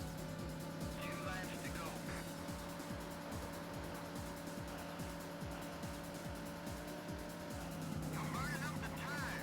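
Tires squeal in a Sega Saturn racing game over a droning, pulsing engine, with rising screeches near the start and again at the end against steady background audio.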